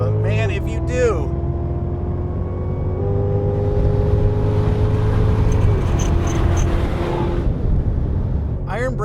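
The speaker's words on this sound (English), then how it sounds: "So you really have to either be the kind of guy that likes supercharger whine or doesn't." A 2016 Cadillac CTS-V's supercharged engine, its whine rising and holding in long steady tones under a constant loud drone, with someone talking over it at the start and end.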